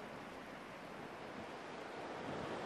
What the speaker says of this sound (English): With the water lapping over his body, Piran wakes up.